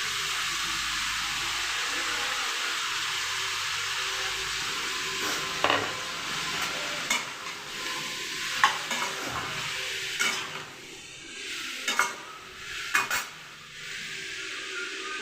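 Cut drumstick pieces (sajna) go into a hot frying pan, with steady sizzling followed by a series of sharp utensil scrapes and knocks against the pan as they are stirred.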